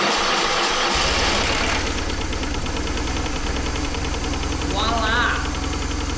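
A BMW GS Boxer motorcycle engine fires up about a second in and settles into a steady, throbbing idle that holds close and loud to the end.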